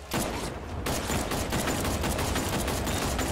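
Rapid, loud gunfire from a gun in the video game Batman Arkham Knight, with dense bursts of shots running continuously for a few seconds.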